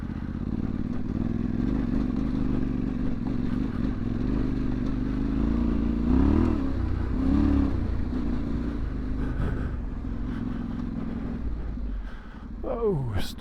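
A Yamaha Tenere World Raid motorcycle climbs a rough hill in second gear, its engine droning steadily and swelling midway, with clattering stones and scrapes from the tyres and a sharp whine near the end.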